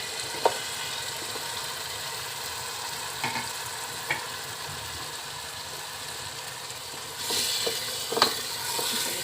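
Chopped turnips are stirred into masala frying in a pan, a steady low sizzle with occasional scraping knocks of the spoon and a louder burst of frying toward the end.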